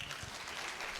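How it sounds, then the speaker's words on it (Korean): An audience claps at a high school admissions information session, a faint, brief patter of applause. "박수로 부탁드립니다"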